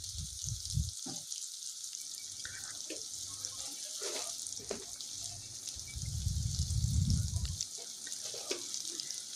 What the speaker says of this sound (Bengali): পেঁয়াজ, কাঁচামরিচ, হলুদ, মরিচ একসাথে দিয়ে মশলাটাকে ভালোভাবে ভেজে নিব